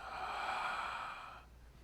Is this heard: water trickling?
no